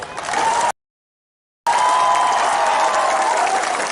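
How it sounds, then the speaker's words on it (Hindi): Dense crowd clapping at a Tipra Motha mass rally in Manikpur, loud and sustained, broken by a roughly one-second gap of silence before resuming at full strength. "हंसो के लिए भी ताली मारो।"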